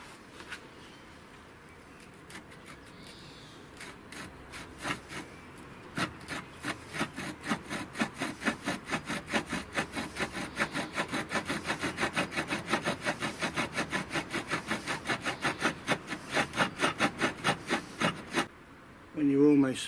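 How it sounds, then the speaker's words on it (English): Primitive bow drill with a flint bit boring a hole into wood, a steady back-and-forth grinding rasp that speeds into a fast even rhythm, close and moderately loud, then stopping abruptly. "make a functioning drill and actually drill holes in wood"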